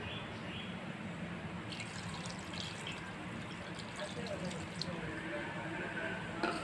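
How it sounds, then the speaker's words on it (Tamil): Water pours steadily into a metal pressure cooker, a continuous liquid splashing and trickling that runs throughout, with a faint voice murmuring in the background. "ஒரு கப்பு தண்ணி ஊற்றிக்கிறேன்."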